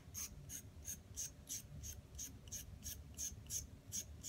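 A brown pastel stick is shaved by hand, giving a faint, quick run of about a dozen evenly spaced, crisp scraping strokes in a steady rhythm, with no speech.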